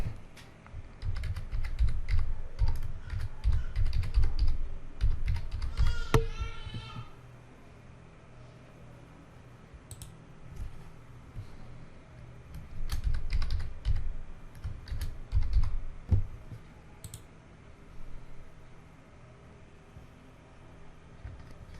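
Someone types an email address and password on a computer keyboard, bursts of quick clicking keystrokes separated by pauses, close and clear with no talking.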